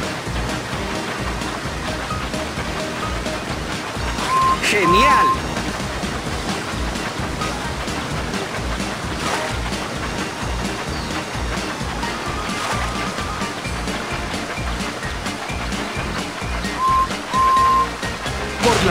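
Rushing water surges continuously on a wild mountain water slide in a Thomas train video game, loud and steady, with short tonal game chimes and a brief excited voice.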